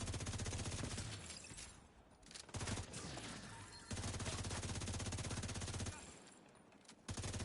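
Rapid automatic gunfire in The Division 2 while a player shoots at a barrel, dense loud bursts broken by brief pauses, with a voice faintly present.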